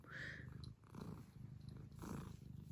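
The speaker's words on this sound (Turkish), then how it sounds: "Bakar mısınız mırlamasına?" A cat purrs softly and close, a low rhythmic rumble rising and falling with each breath.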